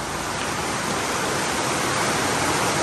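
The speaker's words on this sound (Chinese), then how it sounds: "现在外面真的下超大的， 从这个铁皮屋的声音都应该就听得出来" Heavy rain pours onto a tin-roofed shed, a dense, steady hiss of drumming water that stays loud and unbroken from start to finish.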